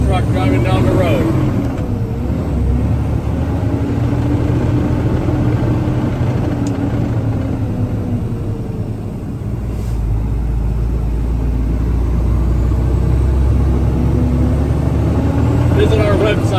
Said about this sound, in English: here's an awesome truck driving down the road.